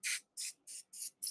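Spray baste adhesive is sprayed onto potholder fabric in five short, even hisses, each lasting about a fifth of a second, close and fairly loud with brief silent gaps between.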